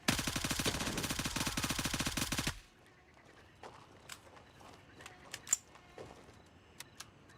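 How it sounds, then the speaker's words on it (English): Rapid automatic rifle fire empties a whole magazine in the night-time game Gray Zone Warfare, a loud dense burst lasting over two seconds, then quiet with scattered faint clicks and shuffling. "That's that mag dump, boys."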